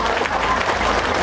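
A crowd at a comedy roast in Purworejo breaks into loud, continuous applause, a dense wash of clapping filling the short moment.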